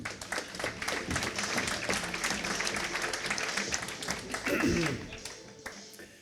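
An audience at an aviation forum opening at Toulouse-Blagnac airport applauds, a steady, moderately quiet stream of overlapping claps lasting several seconds, with some voices and stray taps mixed in.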